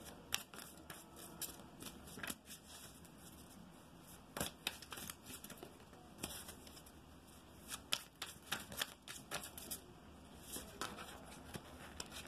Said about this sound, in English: I'm going to take some romance angel cards here, and we will see where this leads.